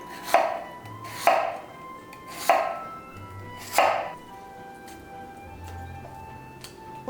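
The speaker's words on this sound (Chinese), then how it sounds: "先把一个藕去皮， 然后把藕切片。" Lotus root being sliced with a knife on a cutting board, four crisp evenly spaced chops up close, then quieter background.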